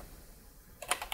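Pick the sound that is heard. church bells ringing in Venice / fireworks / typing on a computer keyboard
typing on a computer keyboard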